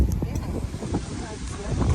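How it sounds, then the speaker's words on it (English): Gusty wind buffets the microphone in a steady, rumbling roar at an outdoor roadside farm market and nursery sale, with a faint voice underneath. "it got super windy"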